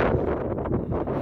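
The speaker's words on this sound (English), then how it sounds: "it's real windy" Gusty wind on a mountaintop along the Appalachian Trail buffets the microphone with a loud, continuous low rumble and rustle, no voices present.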